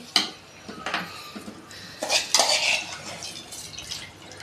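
Washed rice tipped into a pot of boiling water for egg biryani gives a series of metallic clinks, splashes and stirring scrapes close by, with the pot bubbling underneath.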